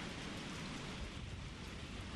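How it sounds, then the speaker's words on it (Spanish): Steady rain falling in Resident Evil 4 Ultimate HD Edition, a dense, even wash of hiss that fills the whole stretch with no voices over it. "¿Por qué está lloviendo acá?"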